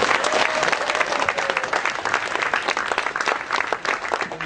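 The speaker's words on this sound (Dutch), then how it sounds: "Applaus voor Lars." A crowd claps steadily at a juggling championship award ceremony, strong continuous applause from many hands greeting a placed juggler, loud and close throughout.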